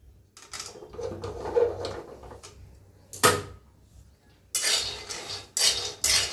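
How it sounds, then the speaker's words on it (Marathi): Peanuts are being dry-roasted in a pan for sweet peanut polis. Sharp, intermittent scraping and rattling bursts come from stirring, separated by short quiet gaps. "आता घेऊया शेंगदाणा भाजून।"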